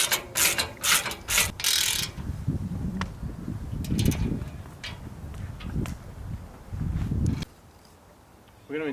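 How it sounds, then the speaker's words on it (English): A 13mm socket ratchet tightens nylock nuts over large washers while a Shingleback Sport rack is being assembled, with rapid, close clicking bursts, pauses and metallic clanks between turns. "Going to tighten with the 13mm socket and 13mm spanner."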